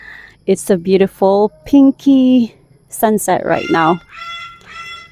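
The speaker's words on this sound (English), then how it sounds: "That's the noisy bird in the background." Noisy bird, goose-like honking calls, in the background outdoors at sunset, several short harsh calls breaking in after someone speaks, loud and fairly close.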